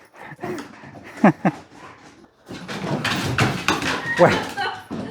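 Dogs scuffle and play, with snuffling, soft yips and paws moving around, while a person talks over the activity.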